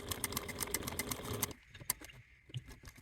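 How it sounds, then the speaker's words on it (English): A sewing machine top-stitches a wallet piece with a quick, rhythmic run of needle clicks for about a second and a half, then stops, leaving a few faint taps in near quiet. "want to take our machine and top stitch at a 1/8 seam allowance below that upper slit"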